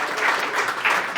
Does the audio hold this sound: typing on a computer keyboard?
no